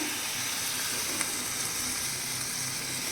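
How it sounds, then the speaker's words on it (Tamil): Beaten eggs go into a pan of frying cauliflower for a cauliflower and egg poriyal. The result is a close, continuous sizzle and hiss of frying at an even level, with a faint tap near the middle and no speech. "மூணு முட்டையை வந்து உடச்சி நல்லா அடித்து வச்சுருக்கேன் அதை தான் இப்போ வந்து நான் வந்து இதில் ஊற்ற போகிறேன்"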